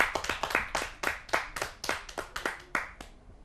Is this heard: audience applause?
yes